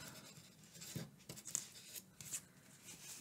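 Soft snips of scissors cutting a yarn tail on a crochet sunflower leaf, a few quiet crisp cuts amid faint rustling, close and low in level.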